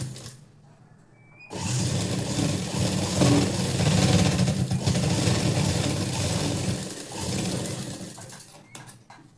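A sewing machine stitches a blouse seam. After a quiet moment it starts abruptly into a continuous, close, whirring buzz, runs for about seven seconds, then slows and stops.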